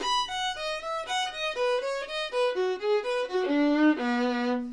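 A bowed bluegrass fiddle plays a fast descending cascade of arpeggiated notes, bright and clear, ending on a held low note.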